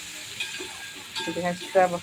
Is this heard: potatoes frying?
yes